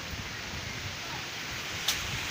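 Strong typhoon wind roars steadily and close, a dense broadband rush with no pauses, briefly broken by a single sharp knock near the end.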